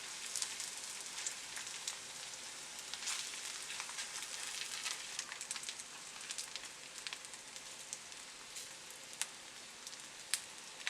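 Kimchi pancake batter frying in an oiled pan over medium heat, with a continuous soft crackling sizzle and occasional sharper pops.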